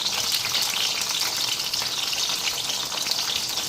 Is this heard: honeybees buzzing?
no